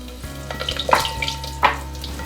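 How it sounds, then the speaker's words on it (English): Garlic and red chilies sizzle and crackle in smoking-hot oil, with a steady frying hiss and a few sharper spits and stirring scrapes rising above it, close and fairly quiet. "Now I'm going to add garlic. Let the garlic burn."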